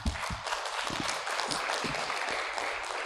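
An audience applauds after a keynote presentation at a maritime economics and business international conference, a dense, even patter of many hands heard at a modest distance and fairly quiet throughout.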